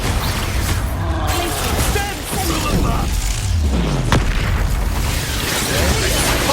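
Expulso explosion spell blasts during a Hogwarts Legacy fight, loud booming bursts and crashes amid continuous combat din and music.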